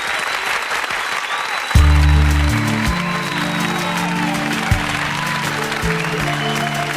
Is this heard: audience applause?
yes